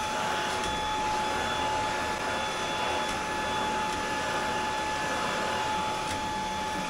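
A Kalado KCV01 cordless stick vacuum cleaner runs steadily on a velvety mat, giving a constant close whine and airy roar with a few faint higher tones, unbroken throughout.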